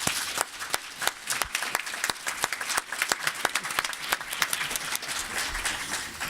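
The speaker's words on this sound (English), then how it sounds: "Let's give these folks a round of applause for their service." Audience at a healthcare forum applauds a panel of state legislators, a dense, steady round of many hands clapping with sharp individual claps standing out, sustained and fairly close throughout.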